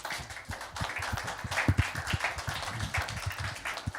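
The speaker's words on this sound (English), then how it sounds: "Give a hand for the Lord this morning." Church congregation clapping hands together at a morning service, a steady run of overlapping claps filling the room at moderate loudness.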